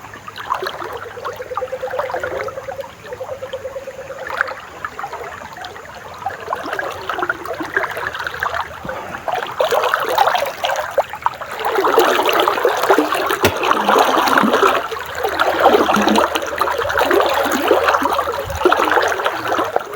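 Water flows steadily through a deep creek, a continuous close rushing and gurgling that swells louder in the second half, with no voices.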